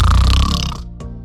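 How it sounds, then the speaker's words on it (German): A single loud, close snore rasps for just under a second, a rough throaty rumble that cuts off abruptly, followed by a short faint breathy trace. "Das Schnarchen verbindet uns auf einer ganz anderen Ebene."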